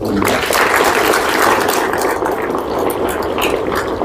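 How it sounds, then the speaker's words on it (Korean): Audience applause at an international academic conference of the General Paik Sun-yup memorial foundation: dense, steady clapping from a crowd that holds at an even level for the whole stretch without fading. "다시 한번 큰 박수 부탁드립니다."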